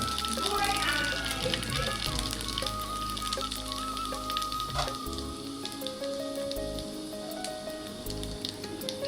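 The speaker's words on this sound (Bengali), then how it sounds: "শুকনো মরিচগুলো আগে ভাইজে নিতে হবে" Dried red chilies and panch phoron crackle and sizzle in hot oil in a home kitchen, a steady close frying hiss running throughout with a voice speaking over it.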